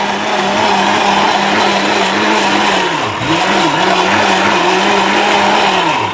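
An electric blender grinds chilies into paste, a loud, steady motor whine that runs continuously with brief pitch dips as the load shifts, close up with no talk.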